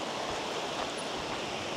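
Water from a small waterfall on a modest stream, a continuous even hiss and rush with no other sounds.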